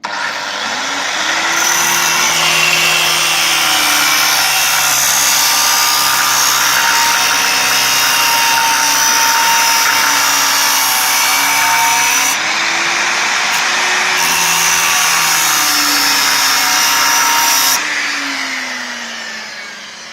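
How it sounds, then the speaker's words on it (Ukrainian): A loud, steady angle-grinder whine runs almost continuously as it cuts through a weld seam on an axe, its pitch sagging and rising as the blade bites and eases, with brief dips near the end. "оцей шов я беру болгаркой. его разрезаю"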